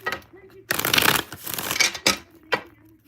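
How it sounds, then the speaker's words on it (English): A deck of cards being shuffled close by, with a long riffling burst followed by a few shorter rustling flurries and snaps. "One more shuffle."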